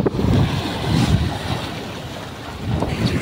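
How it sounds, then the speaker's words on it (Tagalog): Strong sea waves crash and surge around a rock in the middle of the sea, rough churning water breaking in loud, uneven bursts with wind buffeting the microphone. "biglang lumakas yung alon"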